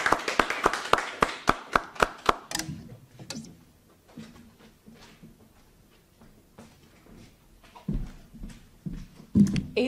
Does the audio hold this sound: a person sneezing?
no